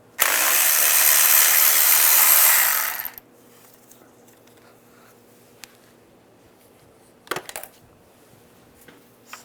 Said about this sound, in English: Using a 12mm socket, take this nut off.